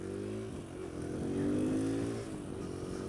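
A Kawasaki KLX140L dirt bike engine running nearby, a steady idle that swells into a modest rev and then settles back, with no talking.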